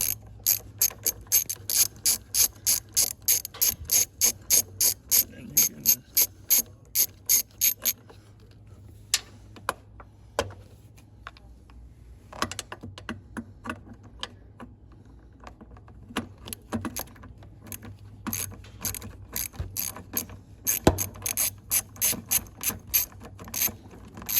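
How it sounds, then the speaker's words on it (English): An 8mm socket ratchet loosens the degas bottle bolts on a 7.3 Powerstroke F250, giving rapid, close pawl clicking in repeated bursts with short pauses between strokes and no talk. "Take your 8mm and then hit these two bolts right here."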